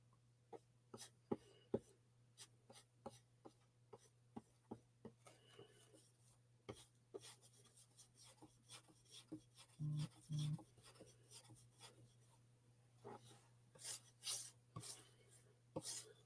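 Antique wax being worked thinly over white-painted wood, heard as a run of soft, quiet rasping rubs and brushing strokes with brief pauses, faint and close, over a steady low hum and no voices.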